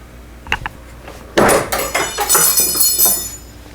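Vevor 8-inch manual hand shear cutting 1/4 inch steel bar: a couple of sharp metallic knocks, then a loud sustained crunching, grinding shear through the metal with ringing clanks, close up and without talk.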